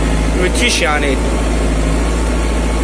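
A 100-horsepower imported European tractor engine running steadily, a loud continuous low drone close by, with someone speaking briefly over it.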